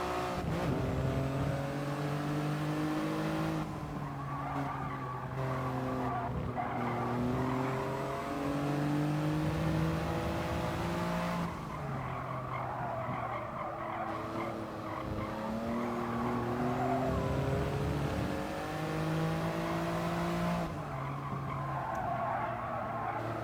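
Toyota GR Yaris racing at Fuji in Gran Turismo, its engine note rising and falling through gear changes with repeated tire squeal and skidding, loud and continuous throughout with no talk.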